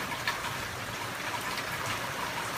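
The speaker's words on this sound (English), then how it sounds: "Still raining." Steady rainfall in the San Fernando Valley during a thunderstorm, heard from outdoors as an even hiss of drops and runoff with no voices over it.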